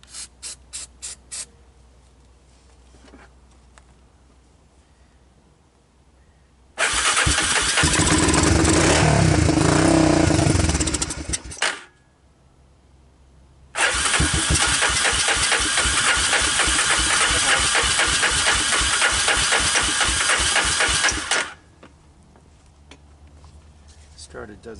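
A Honda TRX250 ATV, running on starting fluid, cranks and catches, then roars loudly for several seconds and cuts out. After a pause it fires again and runs roughly for about eight seconds before dying, all up close.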